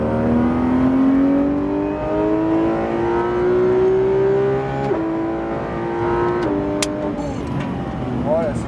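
A car accelerates hard on a cone-marked driving course, the engine note climbing steadily through several gear changes while an instructor speaks over it.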